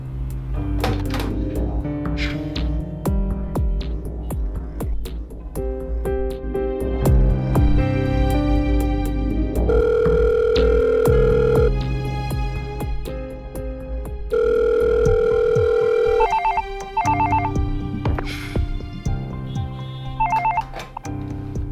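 A telephone rings in short, repeated trilling bursts near the end, over loud background music.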